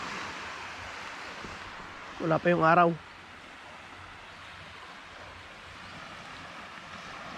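Calm sea with gentle, low waves and little water on an island beach in early morning, heard as a steady soft wash with faint wind throughout, while a voice briefly speaks near the middle.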